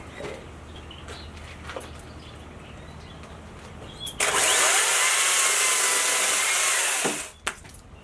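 A small chainsaw whines loudly for about three seconds as it cuts through a black pine bonsai branch, preceded by quieter handling clicks and faint birdsong.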